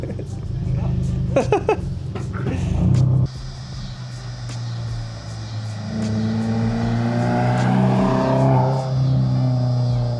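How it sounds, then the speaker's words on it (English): A loud Subaru WRX rumbles and revs as it drives up a street, rising from a low idle into a growing, gravelly engine roar, with people talking briefly over the start. "drive up and down the street and I'll get a clip of it driving"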